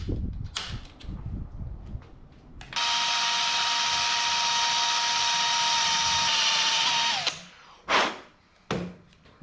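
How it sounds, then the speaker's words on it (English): A power drill bores into a Chevy LUV carburetor part clamped in soft jaws, a steady loud whine holding for about four and a half seconds before stopping, framed by a few clanks and handling knocks. "I'll be careful drilling."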